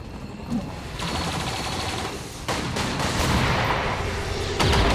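Heavy, dense gunfire and explosions in the tactical video game XCOM 2, a continuous loud barrage that swells and sharpens a few times.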